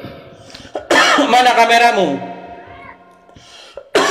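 A person speaks briefly, then a hoarse, strained cough-like outburst follows, with a sharp noise at the very end.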